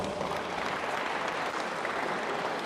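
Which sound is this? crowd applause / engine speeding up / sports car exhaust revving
crowd applause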